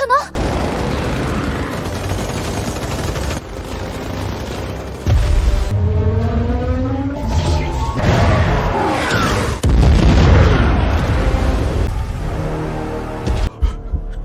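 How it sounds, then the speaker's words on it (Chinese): Animated aircraft cannon fire and explosions: heavy booming blasts and rumbling bursts come in several surges, loud and close, with a deep low-end thump. "上面配备的可是最新型号的航空机炮"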